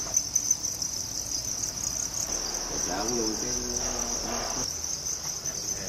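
Crickets in breeding pens on a farm chirp in a steady, continuous high trill that dominates the scene, with a faint thin tonal sound briefly passing underneath.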